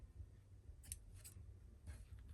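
Scissors snip a paper recipe tag for a craft photo-tag recipe card pocket, three quick crisp cuts close by at a steady pace over a quiet room, with no talking.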